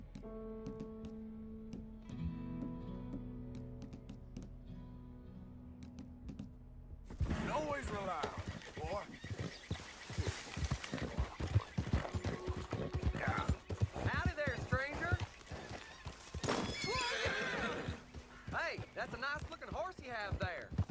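Horse hooves clip-clop at a gallop in Red Dead Redemption 2, rapid and close, following a quiet musical opening, with someone talking over the hoofbeats and a whinny cutting in.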